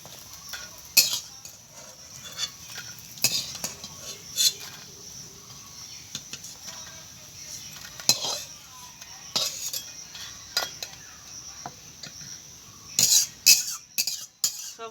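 Lentil and taro leaf fritters frying in a pan, a low sizzle under scattered clinks and scrapes of a spatula or slotted spoon as the pieces are turned and lifted out, close by.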